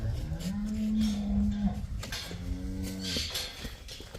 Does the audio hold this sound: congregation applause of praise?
no